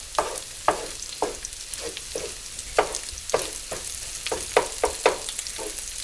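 Kielbasa, egg and onion stir-fry sizzling in a pan while a spatula scrapes and stirs it in quick, irregular strokes, close and clear with no talking.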